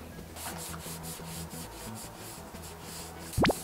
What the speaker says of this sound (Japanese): 鉢を磨いています。